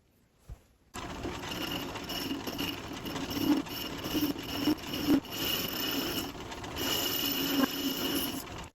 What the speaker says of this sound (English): So first I'm just going to face the end, just get a nice flat surface on the end